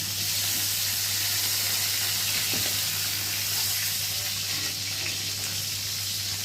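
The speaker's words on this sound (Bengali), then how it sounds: "এই যে পটল ভাজতে দিয়েছি, পটলটাকে আগে ভালো করে ভেজে তুলে নেবো" Pointed gourd fries in hot oil with a loud, steady sizzle and hiss that carries on unbroken.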